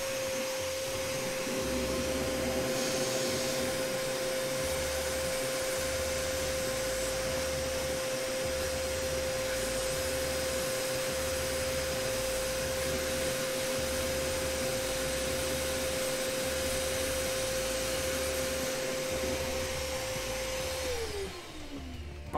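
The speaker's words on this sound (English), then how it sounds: "I'm gonna use a vacuum." Vacuum cleaner drawing thermal paste residue off Nintendo Switch parts during a teardown, a loud, steady whine and rush running continuously close by, then winding down at the end, with no talking.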